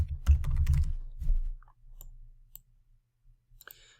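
Typing on a computer keyboard produces a quick, close burst of key clicks, then a few sparse, isolated taps after a pause, with no speech.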